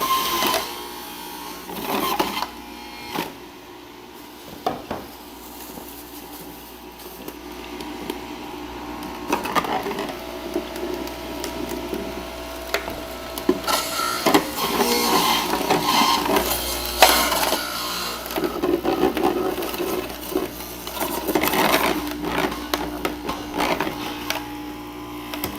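A juicer machine grinds and presses kale, a steady mechanical whir with rougher crunching surges as the leaves are pushed through, close and continuous.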